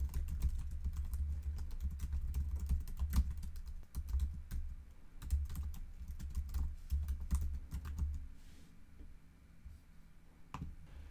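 Sign-up details being typed on a computer keyboard, a steady run of close, quiet keystrokes and clicks with short pauses between bursts, with no talking.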